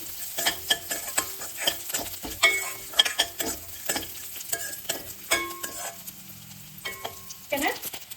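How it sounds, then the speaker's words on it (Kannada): Grated coconut and cashews frying in a pan, with soft sizzling broken by repeated scraping and clinking strokes of a stirring spoon, close by and moderately quiet. "ಇದ್ರ ಜೊತೆಗೆ ಸಣ್ಣದಾಗಿ ಕಟ್ ಮಾಡಿ ಇಟ್ಕೊಂಡಿರೋದು ತೆಂಗಿನಕಾಯಿ ತುರಿ, ಇಷ್ಟು ಹಾಗೆ ಫ್ರೈ ಮಾಡಿ."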